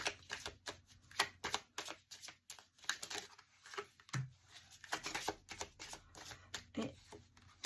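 Tarot cards shuffled by hand, soft and close, with quick riffling bursts and papery taps in an uneven rhythm.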